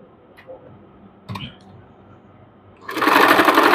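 A sewing machine stitches a fabric strip trim onto a pant or pajama hem. A few light clicks and taps come first, then a loud, fast, steady mechanical whirr of stitching starts and runs to the end.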